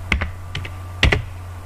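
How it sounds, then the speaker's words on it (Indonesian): Keys tapped on a computer keyboard while configuring network routing, two quick pairs of clicks separated by a short gap, close and clear over a low steady hum. "Kemudian kita ketik"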